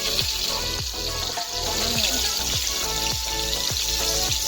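Flour-coated fish frying in a pan of hot cooking oil, a steady loud sizzle and crackle with rhythmic bursts of spattering throughout, no one speaking.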